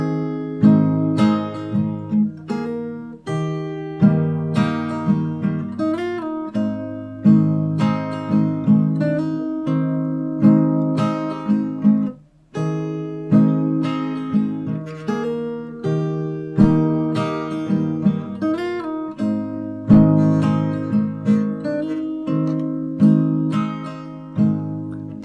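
Fingerstyle acoustic guitar plays the bridge of a Hindi song, with plucked notes ringing over sustained chords in a steady, unhurried rhythm, close and clear with no voice.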